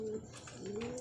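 Pigeons coo softly nearby in a brief, low throaty burble with faint chirps, heard alone and fairly quiet.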